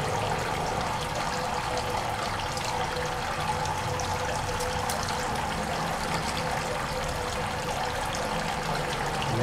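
Water flowing steadily up through the rocks of an aquaponics grow bed, a continuous close trickling and pouring wash with no break across the whole stretch.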